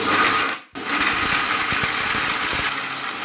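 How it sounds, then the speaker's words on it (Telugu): A mixer grinder whirring as it coarsely grinds fried boondi for laddu, a steady loud motor drone with a brief dip where it pauses, then running on. "బూందీ అయితే మనం మిక్సీ పట్టుకున్నామండి"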